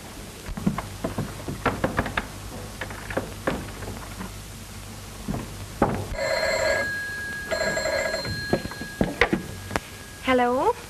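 A telephone rings in two spaced bursts on a 1936 western film soundtrack. Footsteps and knocks come before the rings, and a brief voice follows them.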